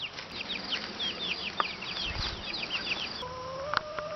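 Young three-week-old silkie chicks peep and cluck in a pen, with many overlapping high chirps in a steady, close chorus and no talking.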